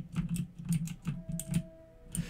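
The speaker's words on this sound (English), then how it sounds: "I know it's the new keyboard's loud" Loud, rapid typing on a new mechanical computer keyboard, close and clattering in irregular bursts of keystrokes with brief pauses, with no voice over it.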